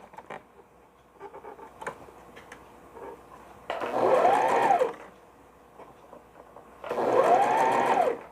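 A sewing machine stitches pieces of a cloth bag in two bursts of rapid mechanical whirring, each about a second or more long, with quiet handling clicks and rustles between them.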